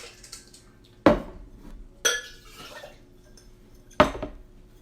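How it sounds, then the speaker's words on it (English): Cocktail barware for margaritas clinks in three distinct metallic and glassy knocks, about a second apart, close by, with light watery rinsing and drips between them. "let me do a quick rinse on my barware"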